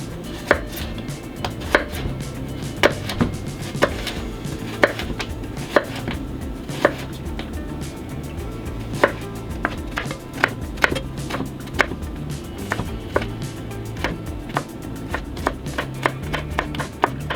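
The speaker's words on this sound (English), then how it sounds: "And I'm just going to do a quick mince on the garlic." A knife quickly mincing garlic cloves on a cutting board, giving rapid, close, crisp chops in uneven bursts that continue throughout, with no talking.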